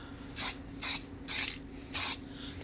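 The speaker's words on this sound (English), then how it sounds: "I'm going to hit it with a little bit of clear coat. Automotive clear coat." Aerosol can of automotive clear coat sprayed onto a brake caliper, four short bright hissing bursts at a steady rhythm, close to the microphone with quiet pauses between.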